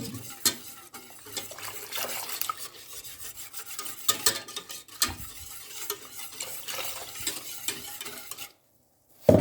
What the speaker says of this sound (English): Then put it into a heat and still continue mixing it.